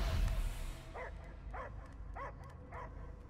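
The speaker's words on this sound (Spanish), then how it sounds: "Yo solo oigo ladridos." A dog barks in the Guardians of the Galaxy video game, four evenly spaced barks at moderate distance over a low rumbling game background.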